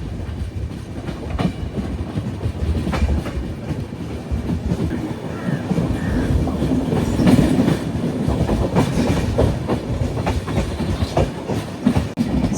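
An Alleppey–Dhanbad Bokaro Express train runs steadily and loudly up close, with a continuous rumble of carriages and a rhythmic clickety-clack of wheels on the rails throughout, no voices.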